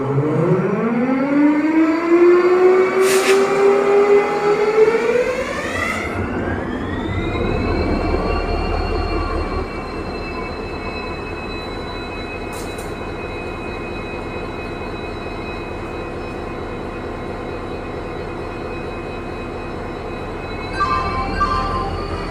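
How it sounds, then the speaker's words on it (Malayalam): A diesel locomotive engine starts at Mysore Junction railway station: a rising whine climbs over several seconds, then settles into a steady, loud drone and hum that runs on alone. "നമ്മുടെ ഈ ഡീസൽ എഞ്ചിൻ സ്റ്റാർട്ടാക്കുന്ന ശബ്ദം കേൾക്കാൻ വേണ്ടിയിട്ടാണ്"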